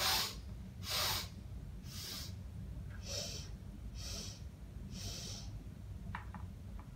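Six long sniffing inhalations through the nose, evenly spaced about a second apart, each drawn out and breathy, close up over a low steady room hum.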